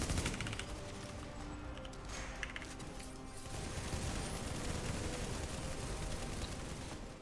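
Sustained L86 LMG machine gun fire in The Division, a steady stream of rapid shots with crashing impacts, fairly quiet and distant in the mix, no voices.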